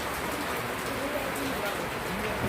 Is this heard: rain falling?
yes